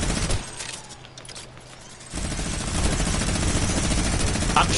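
Bursts of rapid gunfire from the video game Fortnite, dense and sustained through most of the stretch, with a short quieter gap before the shooting resumes loudly.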